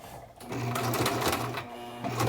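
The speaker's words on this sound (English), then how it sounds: "I'm gonna press on my presser foot slowly" Close, loud sewing machine running in short steady bursts while stitching a neck label onto a garment's top edge, its rapid mechanical chatter pausing briefly between runs.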